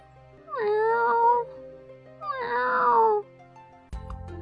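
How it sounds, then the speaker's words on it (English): A stray cat meows twice, two drawn-out rising-and-falling calls about a second apart, fairly close and clear against a quiet background, followed by a brief thump at the end. "Is that a cat?"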